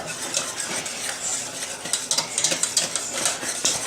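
Pastry cream being stirred constantly in a pot as it heats toward a boil and thickens: a steady, close scraping and swishing of a utensil against the pot, with brighter clinks and scrapes growing more frequent toward the end, no talk.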